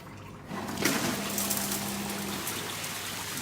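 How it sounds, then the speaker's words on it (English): Water flushing through a gold sluice pump inside a workshop, a steady hiss and splashing rush that starts abruptly and runs continuously with a faint tonal hum underneath. "I'll just quickly flush the pump to get all that"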